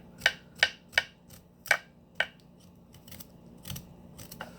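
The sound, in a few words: peeling parsnips with a knife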